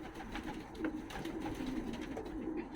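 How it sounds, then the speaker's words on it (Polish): Racing pigeons gather at a feeding bucket, giving soft close coos over a low, busy background murmur with light rustling. "gołębki jedzą sobie o, z wiaderka"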